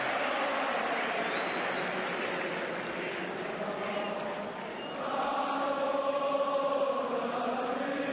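A football crowd at a Swansea City against Leeds United match cheers and applauds in a steady, dense roar that swells a little toward the end, heard from a distance with no clear voices in front.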